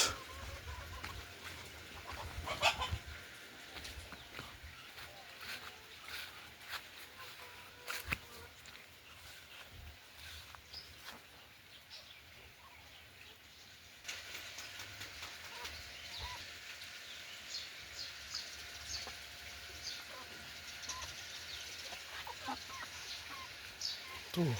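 Farm chickens cluck on and off at a moderate distance over steady outdoor background noise, with occasional louder calls and no clear talk.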